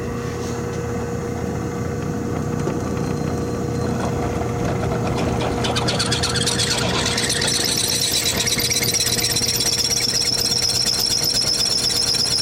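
A drill bit boring out a Mack truck rear end input shaft, starting as a steady mechanical hum and breaking into harsh, loud squealing and chattering about halfway through.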